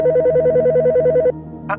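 A telephone rings in a steady electronic trill, pulsing rapidly for over a second, then stops; a brief faint chirp follows.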